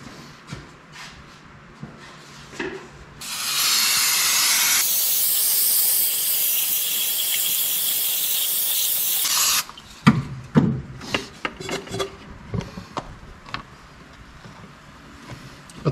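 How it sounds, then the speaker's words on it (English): A can of non-flammable cleaner sprays in one loud, continuous hiss lasting about six seconds near a brake proportioning valve and lines on a 1976 Chevy K20 truck. Softer rustling and clicks follow. "So I can spray it like that and not worry about it."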